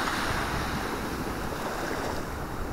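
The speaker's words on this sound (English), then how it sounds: "First time I've ever been to the Atlantic Ocean." Atlantic Ocean waves roll onto the shore in a steady, loud wash of surf, with wind buffeting the microphone throughout and no voices.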